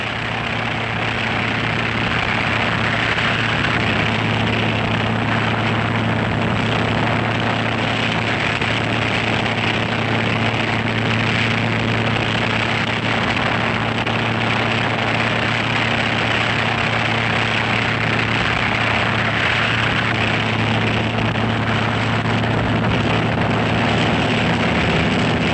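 A military helicopter setting down to land troops in a Soviet army training exercise, its engine and rotor giving a loud, steady, unbroken drone with a strong low hum that holds throughout.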